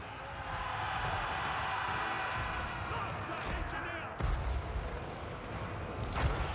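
Mortar artillery fire in a Total War Warhammer 3 siege battle, a dense continuous rumble of distant booms and impacts with a few sharper blasts standing out, no talk over it.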